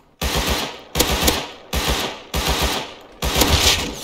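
Rapid automatic gunfire from the video game Rust, five loud bursts in quick succession with brief gaps between, close and dominant.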